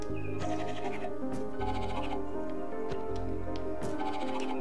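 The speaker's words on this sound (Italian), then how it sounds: "Oh, pecorella. Guardate che carina." A sheep in the video game Narita Boy bleats a few times against a continuous synth soundtrack, the calls brief and moderately loud and set among the music, with nobody speaking.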